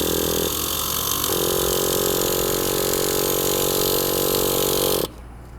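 The small nitro engine of a Traxxas Revo 3.3 RC monster truck fires up and runs rich, a steady buzzing drone close by that changes pitch briefly early on and then cuts off abruptly near the end.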